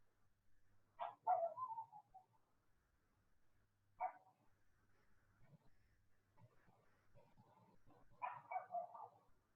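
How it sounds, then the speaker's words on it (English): A pug puppy barks from a neighboring flat below, three short bursts of yapping barks spread over several seconds, faint and muffled through the floor against a quiet room. "our neighbors below us got a pug puppy recently. It's very cute, but it also barks a lot sometimes."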